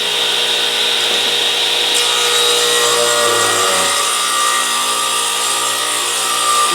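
A radial arm saw shaves a thin strip off the edge of a wooden board, a continuous high whining motor and cutting rasp that stays loud and even throughout, with no voices.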